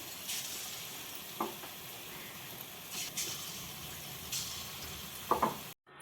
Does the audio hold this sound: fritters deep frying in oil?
yes